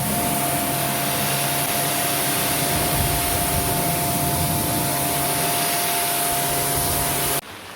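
A pressure washer sprays hard and steadily at close range, a dense continuous hiss with a faint motor drone beneath it, running without a break before stopping abruptly near the end.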